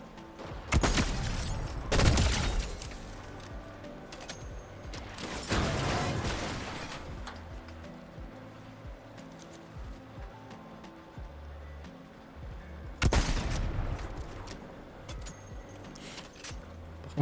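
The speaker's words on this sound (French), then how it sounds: "Il a l'air de faire très mal, le sniper" Sniper rifle shots in the Fortnite battle royale game, a few loud sharp cracks with ringing tails spaced several seconds apart over a low game background.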